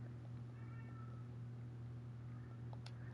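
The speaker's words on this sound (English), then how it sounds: "Wow, the cat is going crazy." A cat meows repeatedly in agitated, drawn-out calls, faint and somewhat distant over a steady background hum.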